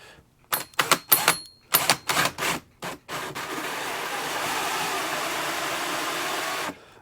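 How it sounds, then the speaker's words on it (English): A drill bit cutting a hole through the side of a case for an overlanding diesel heater build, starting with several short loud bursts, then settling into one continuous grinding whir for several seconds before it stops. "I'm going to cut another hole in the side of this thing and feed this through."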